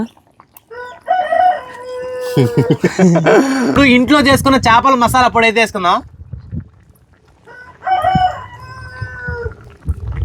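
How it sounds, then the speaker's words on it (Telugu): Roosters crow loudly and repeatedly, one long cock-a-doodle-doo overlapping others, while someone talks over the crowing. "ఈరోజు కోళ్ళు అరుస్తానే ఉన్నాయా"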